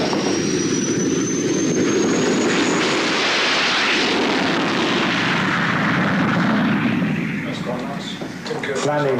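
A training aircraft lands on a runway, its engine roar and broadband rush loud and steady throughout, easing slightly near the end, with talk over it.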